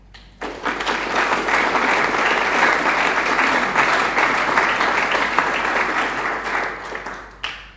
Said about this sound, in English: I believe that truly deserves a round of applause.